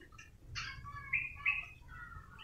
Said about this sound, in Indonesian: Yang ini burung kolibri wulung teman-teman.